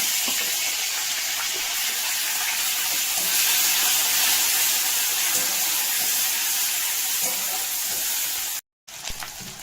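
Dried shrimp frying in white oil with panch phoron, bay leaf and dried red chilli in a kadai make a loud, even sizzle throughout, briefly cut off near the end.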